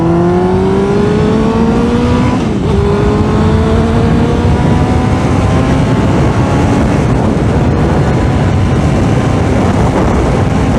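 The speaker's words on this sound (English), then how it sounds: "I'm going to try to give you guys a little bit of acceleration onto the expressway" A 2003 Suzuki GSX-R600 motorcycle accelerating hard onto an expressway, the engine note climbing steadily through the revs, loud and close with heavy wind roar and no speech.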